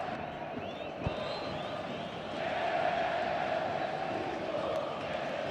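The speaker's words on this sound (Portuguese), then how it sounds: "Aumenta o volume da torcida gremista no Olímpico." Grêmio supporters roar at the Olímpico stadium during a 2011 Brasileirão match against Flamengo, a broad, distant crowd wash that swells louder midway and stays steady.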